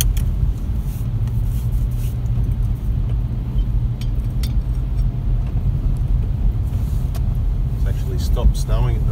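Continuous deep engine rumble and road noise from inside a car climbing slowly along a snowy mountain track, steady and close, with people talking faintly over it.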